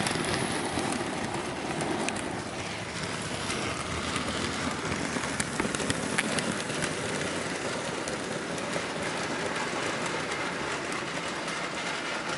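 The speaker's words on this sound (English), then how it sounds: "here are the custom trains running around on the layout" Custom Thomas toy trains run around a model railway layout, a steady, dense rolling clatter of small wheels on track that continues without pause.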